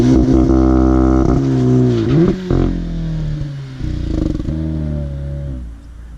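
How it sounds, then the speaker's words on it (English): A 2018 Audi S3 sedan's exhaust roars loud and close, revving hard with rising and falling engine pitch, a sharp launch burst and crackling pops between throttle blips, no voices. "I was filming the exhaust note, the launch, the pops and bangs on this car"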